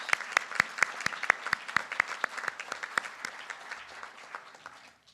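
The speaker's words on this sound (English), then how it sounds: "So let's give them another round of applause." Audience at an awards dinner applauding the honored researchers: sharp, distinct claps in a brisk rhythm, loud at first and thinning and fading out toward the end.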